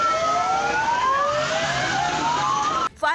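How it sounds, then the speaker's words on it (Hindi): Several fire engines arriving at a slum fire, their sirens wailing in overlapping rising and falling tones, loud and continuous over traffic noise, then cutting off abruptly into a brief burst of sound at the end. "घटना की सूचना मिलते ही वहां दमकल की कई गाड़ियां भी पहुंच गईं।"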